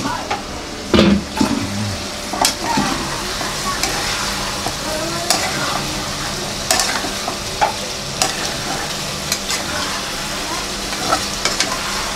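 Chicken frying on a tawa over lowered heat, a continuous close sizzle broken by repeated clacks and scrapes of a spatula stirring the meat.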